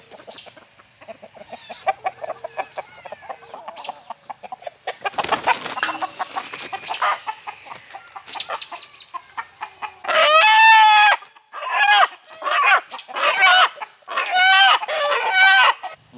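Roosters being caught in a chicken run cluck, squawk and crow at close range, with repeated loud, agitated calls that grow denser and harsher toward the end.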